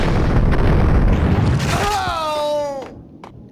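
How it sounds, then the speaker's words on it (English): Grenades going off in the shooter game Max Payne, a heavy broadband boom filling the first seconds, then a falling whistle-like tone and rumble fading out, with a brief exclamation from a player. "Bastards are grenade happy, aren't they?"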